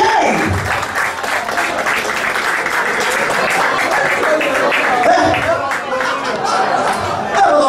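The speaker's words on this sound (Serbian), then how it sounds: "Pa da si je veliki aplauz." A rock concert audience claps loudly and steadily for a band, mixed with crowd chatter and a few laughs, and brief voices come through the applause.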